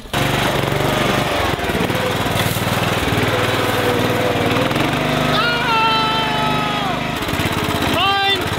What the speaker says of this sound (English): My mower will go first.